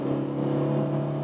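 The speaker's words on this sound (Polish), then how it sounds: "przyspieszyłeś, rzeczywiście no, silnik zapracował jak diesel" A Kia Optima diesel engine pulls steadily under acceleration from inside the car, a continuous low droning hum with a strong steady tone that holds even for the whole short stretch, with no talk over it.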